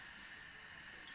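Chicken strips lowered one by one into hot frying oil give a steady, bright sizzling hiss that runs without a break, close and fairly quiet, with no talking over it.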